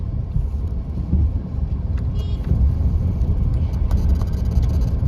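A car lurching over a potholed, broken mountain road between Pokhara and Muktinath, a loud continuous low rumble of tyres and chassis with brief scraping and knocking from underneath, heard from inside the vehicle without talk.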